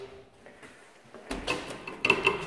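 Locked door on a college campus being tried, a quiet lull followed by rattling clunks and metallic clicks of the handle and latch, close and fairly loud.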